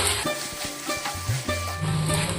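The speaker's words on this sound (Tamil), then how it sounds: "உருளைக்கிழங்கு கூட சேர்த்து நல்லா வதக்கிக்குவோம்" Potatoes and garlic sautéing in oil in a pan, with a steady close sizzle under scraping stir strokes and occasional clinks of a spoon against the pan, no speech.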